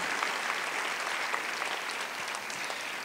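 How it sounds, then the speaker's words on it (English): An audience at a Yom Kippur service applauds community efforts to reduce homelessness, a dense, even wash of many hands clapping that holds steady for the whole stretch, with no talking over it. "we really should give them a round of applause for what they've done."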